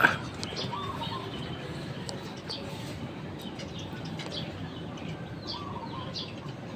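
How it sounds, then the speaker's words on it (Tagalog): Faint, scattered bird chirps, not pigeon coos, come from a bird somewhere in the distance over a soft outdoor background hiss. "May ibon doon pero hindi kalapati."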